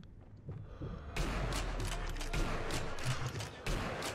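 Gunfire in the Sniper Elite V2 video game erupts after a quiet start into a dense, sustained volley of crackling shots that stays loud to the end.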